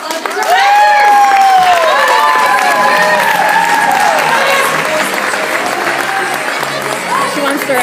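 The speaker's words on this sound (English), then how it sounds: "we give them a huge deserved round of applause" A large audience at a career event applauds loudly and steadily as future directors take their seats, with cheering and tonal music-like sounds running through the dense clapping for the whole stretch.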